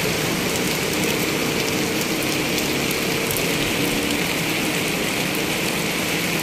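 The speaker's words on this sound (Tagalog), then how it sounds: "Grabe na naman ang ulan guys." Heavy rain pours steadily on a flooded street where motorcycles are stranded, a dense, continuous hiss filling the scene at close range with no pauses.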